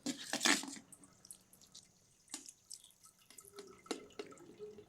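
Cold water is poured slowly from a tap over cooked macaroni, making irregular splashes and drips, some louder bursts among quieter trickles, all close by and fairly soft, with no speech.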